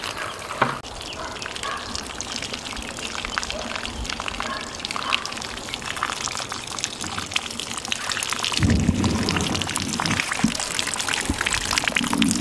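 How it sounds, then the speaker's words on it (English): Water drains through the tiers of a vertical Greenstalk planter standing on a metal mesh table, a steady trickling and dripping wash that swells into a heavier gush near the end. "you can see how the water just drains right through"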